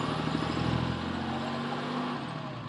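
A 2016 Ram 3500 diesel pickup truck idles nearby, a steady low engine hum with a slight surge early on, then settling into an even, fairly quiet drone with no talking.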